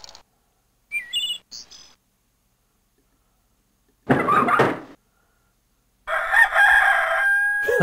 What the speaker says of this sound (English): That stock rooster crow.